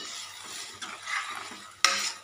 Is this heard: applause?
no